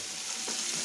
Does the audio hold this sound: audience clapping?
no